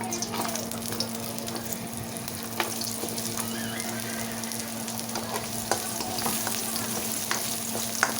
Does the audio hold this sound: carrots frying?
yes